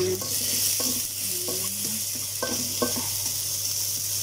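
XO sauce hits a hot pan with garlic and sizzles steadily at close range, while a utensil stirs it in with several light scraping knocks against the pan over a constant low hum.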